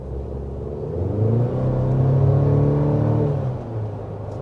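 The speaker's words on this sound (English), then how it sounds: "So just a little punch of the accelerator to start us off here" A 2025 Chevy Colorado midsize truck's engine accelerates from a brief throttle punch, a close, loud rumble with rising harmonics that swells and then eases off, with no talk.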